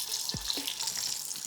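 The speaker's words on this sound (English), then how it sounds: "Start roasting our quail." Quail roasting in olive oil in a pan, giving a steady, close sizzling hiss with faint watery crackle and a couple of low clunks as the birds are laid against the pan's curve.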